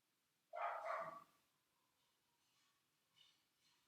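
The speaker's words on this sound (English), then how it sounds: "And I can hear my dog barking." A dog barks in one loud, close burst of several quick barks, then the room falls quiet apart from faint rustling.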